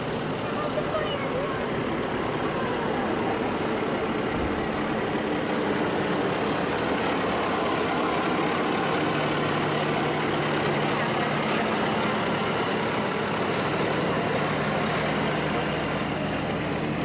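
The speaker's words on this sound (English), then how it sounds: "we have some trucks" Trucks and disaster vehicles roll past in a 2018 Independence Day parade in Middletown. A continuous loud engine rumble carries throughout, with a hiss like an air brake.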